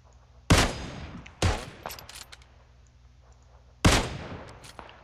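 Three sharp gunshots in the game PUBG ring out at irregular intervals, loud and close, each trailing off quickly over a quiet background, with a faint smaller crack between.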